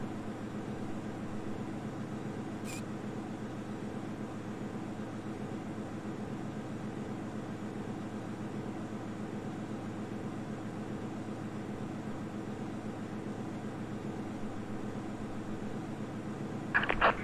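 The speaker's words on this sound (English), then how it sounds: "Engine 2 is almost fully started up and ready to go" Simulated Airbus A320 in a flight simulator game at St. Thomas, engine number two spooling up: a steady, broad jet whine and rumble holding constant and fairly quiet throughout, with a brief click near the end.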